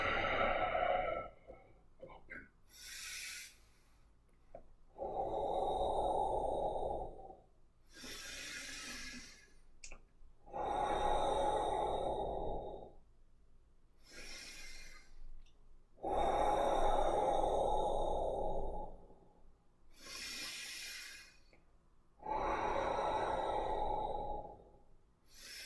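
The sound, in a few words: deep breathing during qigong practice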